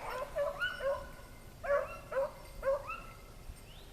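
Hound dog giving tongue on a rabbit trail, a run of yelping barks in short bursts with brief pauses, moderately near in an outdoor setting.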